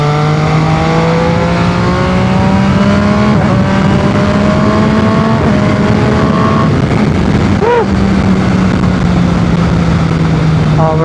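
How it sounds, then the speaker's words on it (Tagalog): An MV Agusta Superveloce 800 three-cylinder motorcycle engine revs up and down continuously and loudly, with a rattling dry-clutch clatter underneath the steady drone. "Dinig na rinig yung dry clutch."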